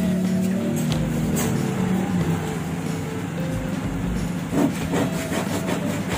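Continuous scratchy rubbing of sandpaper against a surface, close and fairly loud, with a rough back-and-forth texture and no talking.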